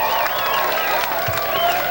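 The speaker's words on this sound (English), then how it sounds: "let's get the crowd up here. For Damien Hardman. Let's hear it for Damien Hardman." Crowd at the 1988 Aloe Up Cup surf contest in New Smyrna Beach cheers and claps for surfer Damien Hardman, a dense steady roar of voices and applause under a loud announcer.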